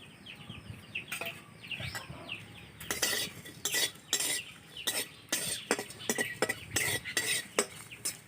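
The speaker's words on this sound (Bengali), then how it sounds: "আমি শুকনো কড়াইয়ে প্রথমে এই মশলাগুলো আমি একটু ভেজে নেব" Whole dry spices are stirred in a dry wok over a stove, with a spatula scraping and rattling against the metal in irregular strokes, fairly close and with no talking.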